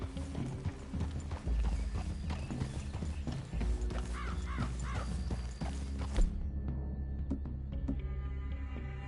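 Horse hooves clip-clop steadily on a trail in the video game Red Dead Redemption 2, with crow caws and a brief whinny mixed in, the hoofbeats fading out toward the end.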